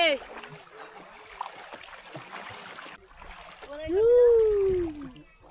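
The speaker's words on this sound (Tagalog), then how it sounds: "Mahirap magsagwan." Water sloshing and splashing as a paddle dips while paddling a boat at sea, with a voice speaking briefly over the splashes and a steady hiss in the background.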